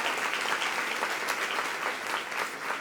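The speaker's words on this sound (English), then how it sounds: "So this deserves another round of applause and a big celebration" An audience at a Latin Women's Initiative luncheon breaks into steady, full applause, many hands clapping together in a dense, even roar filling the room for a few seconds with no talking.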